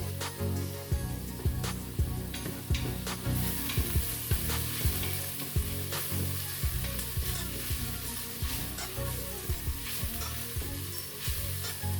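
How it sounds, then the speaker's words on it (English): Onions sautéing in butter sizzle steadily in a pan while a utensil stirs them, giving repeated scraping knocks through the close, continuous frying hiss. "I'm just mixing them up, making sure they're all coated with that butter, and then also making sure that the onions do not scorch or burn."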